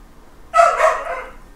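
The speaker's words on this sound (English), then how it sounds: "the dogs are saying hi" A dog gives one short, close bark that trails into a yip-like tail, with quiet room background before and after and no talking.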